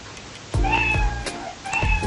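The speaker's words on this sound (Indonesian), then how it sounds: "dia akan bersuara meong sampai suara meongnya itu selesai" A cartoon cat sprite in a Scratch 3.0 program meows twice in quick succession, each meow clear and close, with no talking.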